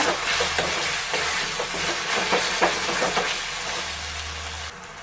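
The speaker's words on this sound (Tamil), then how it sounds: "நல்லா கிளறி விடுங்க." A spiced thokku sizzles and fries in a pan while a utensil scrapes and stirs in repeated soft strokes, close and steady.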